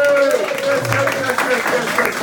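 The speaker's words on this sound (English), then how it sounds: "give her a big round of applause for me" An audience applauds for a performer at a bar show. The scattered clapping and crowd noise run under a tonal musical or vocal sound, and the whole is moderately loud.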